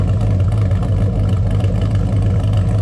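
A cammed 6.0 LQ4 V8 in a truck idles with a choppy, lopsided cam lope, a loud close rumbling pulse rising and falling steadily, with radiator fans running.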